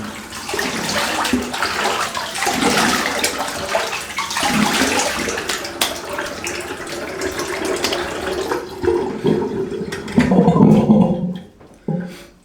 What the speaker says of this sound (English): I'll rinse this off.